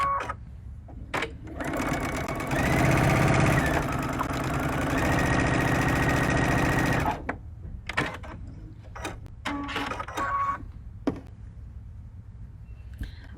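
A domestic sewing machine stitches a bowtie quilt block, running in a loud, fast steady whir for several seconds before stopping, then giving a few short bursts and faint clicks with quiet gaps between.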